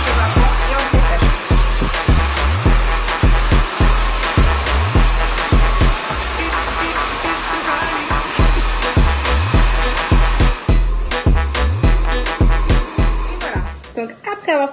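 A hair dryer on its heat setting pre-drying hair with the head tipped down, a steady loud blowing roar with rhythmic whooshing swells as it moves through the hair, and a voice talking over it at times.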